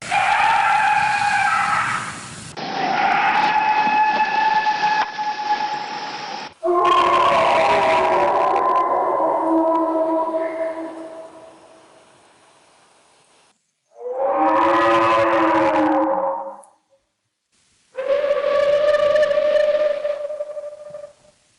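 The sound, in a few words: recorded alleged Bigfoot vocalizations, flat held pitch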